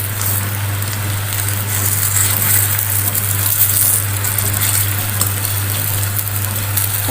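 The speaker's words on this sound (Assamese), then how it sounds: "এতিয়া মই এইখিনিতে ভালদৰে ফ্ৰাই কৰি লওঁ মই ৰিফাইনত ফ্ৰাই কৰি আছোঁ" Steady sizzle of food frying in refined oil in a pan, a continuous crackling hiss with a low constant hum underneath.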